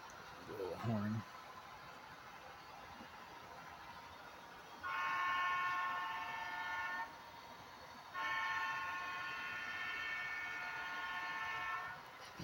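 An HO scale model train horn gives two sustained toots a few seconds apart on a Pennsylvania Railroad layout, fairly faint over a low room hum after a brief voice.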